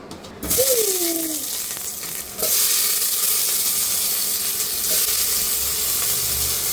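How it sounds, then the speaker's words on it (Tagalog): Garlic and onion fry in hot, smoking olive oil in a pan, giving a loud, steady sizzle and hiss after an initial splash as they go in, with a brief voice near the start. "Bawang sibuyas. Papalutuin lang natin ito."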